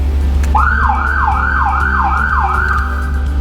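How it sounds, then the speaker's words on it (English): Two ambulance sirens wailing together up close, one a rising and falling yelp over a steady low drone, loud and continuous. "All right, here goes siren 1 and 2."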